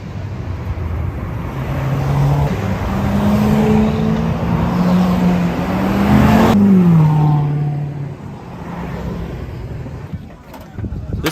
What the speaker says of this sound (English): a rush of beautiful vehicles zoom past. In particular, it's the honorary Corvettes that steal the show